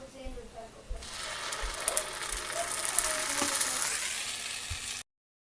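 Chettinad-style kara paniyaram batter poured into hot oil in a paniyaram pan, a crackling sizzle building after a quiet start with a few light metallic clinks, while someone talks over it.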